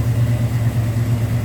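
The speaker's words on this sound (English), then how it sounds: "See that 350 running." A 350 V8 in a 1971 Chevrolet C10 Cheyenne Super pickup idles steadily with the hood open, a loud, continuous low rumble with no talking.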